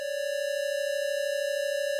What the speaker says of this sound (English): Switch back to normal stereo, it's just two square waves again.